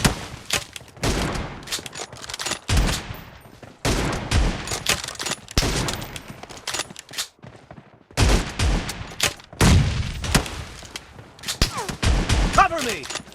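S686 shotgun fire in a team deathmatch video game, heard as several loud, sharp blasts in uneven bursts, each trailing into a short decay, with voices talking in between.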